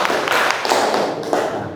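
A classroom of students claps for a group of classmates, a close, loud burst of many hands striking together with thumping, uneven hits throughout.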